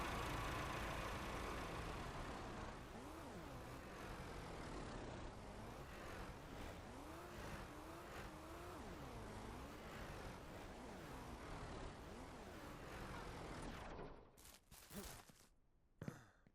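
Car engine in the video game Ranch Simulator, idling with rising and falling revs that sweep up and down steadily for most of the stretch, fairly loud and alone, then cutting off into a few brief clunks near the end.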